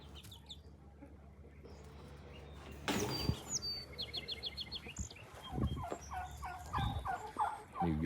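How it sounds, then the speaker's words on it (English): Backyard turkeys on an urban farm let a series of gobbling calls rattle out, close and fairly loud over a quiet yard, with a few bursts in the second half mixed with other faint fowl sounds. "Got the turkeys out here."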